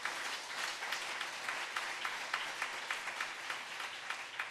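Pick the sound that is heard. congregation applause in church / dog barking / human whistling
congregation applause in church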